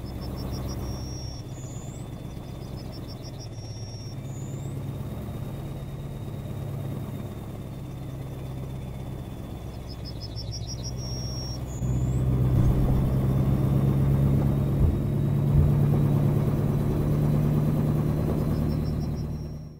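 A heavy truck engine in Euro Truck Simulator, a modded truck with a modded engine sound, rumbles steadily, growing louder partway through as it revs, with faint high electronic chirps repeating above it.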